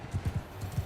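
Hooves of a galloping horse in Mount & Blade II Bannerlord thud in a quick, uneven rhythm of soft low beats, close and fairly quiet, with no talk.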